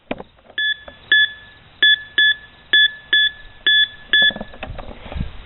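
A Compass Coin Pro II metal detector sounds a series of crisp, evenly spaced electronic beeps as it sweeps over a quarter, about nine short tones close to the mic, with no talking.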